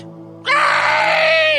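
A voice imitates a parrot's screech: one sustained, harsh, high-pitched shriek that starts abruptly over a low steady hum and holds loud and close for over a second.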